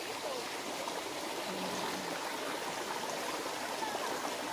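The Tai Tam Falls waterfall stream in Hong Kong rushes with a steady, broad hiss of flowing water, close and continuous throughout.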